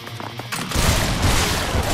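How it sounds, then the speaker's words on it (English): Gunfire rings out in the video game Lollipop Chainsaw RePOP. After a short lead-in, a sustained, loud barrage of blasts fills the rest of the moment. "I'll cover you until I'm out of ammo!"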